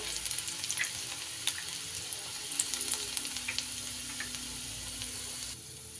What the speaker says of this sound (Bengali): তেলের মধ্যে এখানে আমি দিয়ে দেব একটু রসুন কুচি